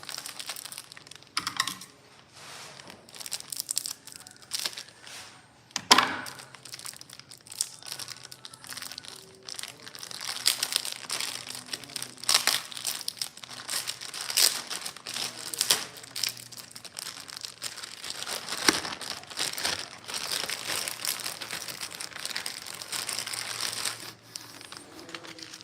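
Crinkly plastic packaging is handled and rustled while a 2.5 x 3.5 rectangle button maker is unboxed. Irregular crackles and crunches come close and fairly quiet for about half a minute, with nobody talking.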